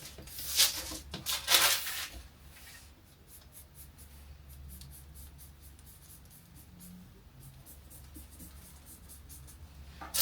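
A sewing pattern outline being traced onto fabric: soft, scratchy marking strokes, a few brisk, louder ones at first, then quieter, lighter rubbing and tapping over a faint background hum, no talking.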